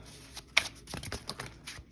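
Tarot cards being shuffled by hand give a short, soft riffle with a few light slaps and rustles, close and fairly quiet, with no talking.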